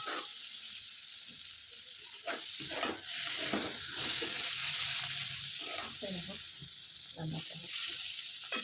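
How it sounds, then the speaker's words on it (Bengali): Spice paste (masala) sizzling steadily in a pan for a small-fish curry, a close hissing bed with irregular scraping and clinks of stirring, and a voice briefly audible underneath. "আমার মশলাটা কষানো হয়ে গেছে।"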